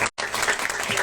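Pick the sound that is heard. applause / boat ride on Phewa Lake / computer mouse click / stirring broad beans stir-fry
applause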